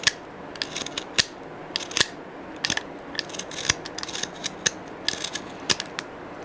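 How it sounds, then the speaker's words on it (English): Scissors snipping material along drawn lines to shape a homemade crankbait, a quick series of sharp, close clicks and cuts at an irregular rhythm. "you will cut in between those lines that you just drew"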